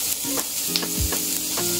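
Garlic sautéing in a pan after onion for chop suey, with a steady sizzle and the scrape of stirring strokes running through the short stretch, close and moderately loud.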